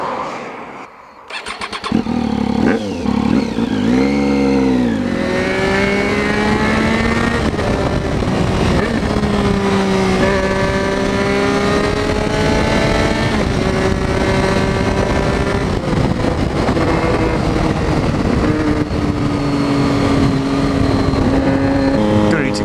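A Triumph Street Triple with SP Engineering exhausts starting up and riding, loud steady engine drone rising and falling through gears with wind roar, recorded on board; overrun crackle not clearly distinct.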